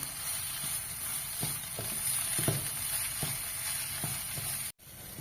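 Ground ginger, garlic and masala paste frying in a pan for chicken curry, a steady close sizzle with a few soft stirring scrapes and a brief dropout near the end.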